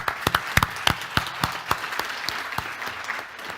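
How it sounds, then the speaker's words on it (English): An audience at a sustainable trade policy conference claps for a panel of speakers, a thin burst of scattered applause at moderate distance that fades toward the end. "How about a big round of applause for Oral, Ake, Dochel, Francesca"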